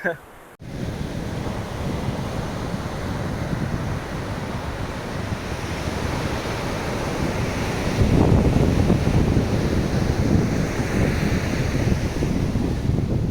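Sea waves wash steadily onto the shore with strong wind buffeting, a loud continuous roar that swells heavier partway through, with no voices.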